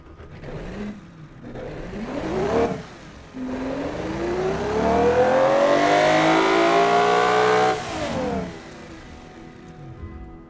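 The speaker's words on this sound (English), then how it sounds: "It sounds like a very muscly V12." A powerful hypercar V12 engine in a video game revs up through several sharp blips, then holds a loud, rising howl before dropping back down, close and dominant.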